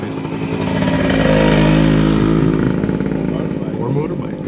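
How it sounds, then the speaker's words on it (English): Motorbikes pass close by on a commuting route, a loud revving engine roar that swells to a peak and then fades away over a few seconds. "Motorbikes."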